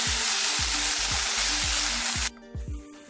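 Spring onion greens hit hot oil spiced with red chili powder and turmeric, setting off a loud, dense, continuous sizzle close by. Steady low thumps pulse beneath it until the sizzle suddenly cuts off near the end.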